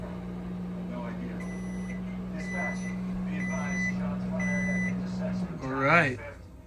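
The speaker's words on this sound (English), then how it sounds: "I'm heating up some water in the microwave" A microwave oven heating water, powered by an Anker SOLIX C1000 Gen 2 portable power station drawing about 1,718 watts: a steady low electrical hum runs for several seconds with a few faint beeps over it, then cuts off, followed by a brief voice.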